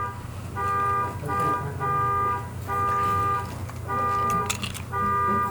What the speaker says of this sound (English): somebody's alarm is going off on their car.